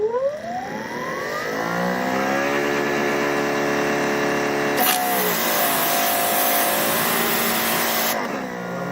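Greenworks 3000 PSI electric pressure washer motor spins up with a rising whine, settles into a loud steady electric hum, then a sharp hiss of spray bursts in partway through, close and without talk.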